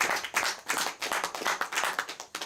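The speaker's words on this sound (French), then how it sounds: "Let's clap for the Lord." A congregation clapping in rhythm for the Lord at a church service, brisk steady handclaps repeating loudly and evenly throughout, without speech.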